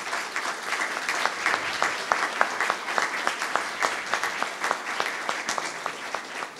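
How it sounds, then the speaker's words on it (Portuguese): Audience applause at a PUCPR Café Filosófico event honouring Carlos Walter Porto Gonçalves, a steady wash of many hands clapping with distinct sharp claps standing out, moderately distant and sustained throughout. "para que eu peço uma salva de palmas"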